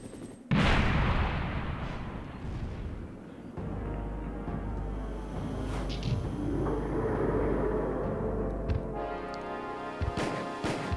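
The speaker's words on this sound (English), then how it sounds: "The reason why I fire so quickly here is because I'm using a trick called quick shotting, where I mash the R1 button while firing" Chris rapidly firing a Magnum in Resident Evil: Director's Cut on PS1, one loud opening blast followed by a sustained stretch of booming shots and rumbling echo, with a few sharp reports near the end.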